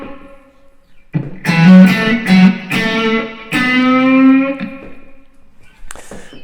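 Electric guitar with a light overdrive plays a slow pentatonic blues lick with an upstroke and a string bend, single notes ringing out one after another before a pause and a brief final note.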